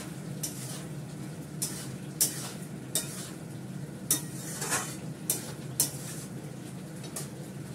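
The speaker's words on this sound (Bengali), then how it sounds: "একটু টকবক করে করে ফুটছে।" Food bubbles and simmers in a pot on a home stove, a steady low burbling bed with scattered sharp pops and crackles rising above it, close and moderately quiet.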